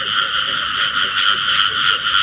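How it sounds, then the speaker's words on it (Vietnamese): Frogs croak at night in a rice field in Vietnam during a frog hunt: a dense, continuous chorus of high, buzzing calls that stays loud and steady throughout. "Mới nhái nữa."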